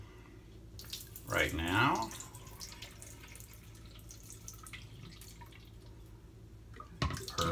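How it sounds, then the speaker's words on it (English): Hot water poured into a plastic PAA travel shaving scuttle, a short splashing pour near the start followed by faint drips. Someone talks quietly through much of it. "So I'm gonna add a little hot water into it"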